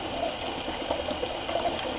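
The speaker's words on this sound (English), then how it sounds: "I'll actually rinse out my razor real quick" Tap water runs steadily at a bathroom sink as a razor is rinsed, a soft continuous stream with faint splashes, close and alone.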